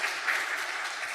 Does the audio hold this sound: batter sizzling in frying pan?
no